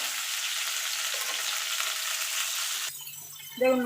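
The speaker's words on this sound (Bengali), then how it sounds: "এটাকেও আমি লাল লাল করে ভেজে তুলে নেব" Cauliflower florets hiss loudly in hot oil for about three seconds before the sizzle cuts off abruptly, leaving quieter kitchen sounds.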